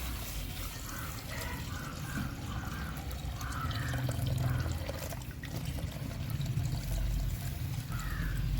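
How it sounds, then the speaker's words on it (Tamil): Water poured into a stovetop cooking pot to wash rice for radish sambar, a steady soft trickle and splash running continuously at close range with no talk. "அடுப்பில் செய்கிற சட்டியில் ஃபஸ்ட்டு அரிசி களைஞ்சி தண்ணி ஊற்றிக்கிறேன்"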